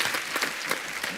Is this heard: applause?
yes